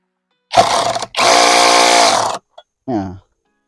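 An IMAX IMCD-20BL brushless cordless drill drives a screw: a short motor burst, then a steady, loud whirring run of over a second before it stops, followed by a brief voice.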